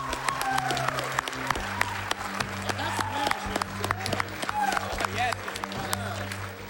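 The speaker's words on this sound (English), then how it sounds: "can we get some more applause with this?" Audience applause at AGDQ 2019 during a Donkey Kong Country race, steady clapping from a large crowd with scattered cheers and whoops, loud and sustained throughout.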